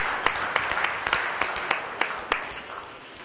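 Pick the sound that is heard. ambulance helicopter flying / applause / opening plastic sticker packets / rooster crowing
applause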